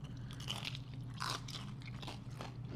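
Crispy fried chicken crunches under close bites and chewing, with a string of crackly crunches over a steady low room hum, intimate and moderately loud, with no talk during the bites.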